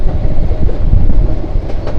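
Shaikat Express passenger train on the Chittagong–Cox's Bazar line rolls past on its rails in thick fog, a loud, steady low rumble with faint clickety-clack throughout and no talking.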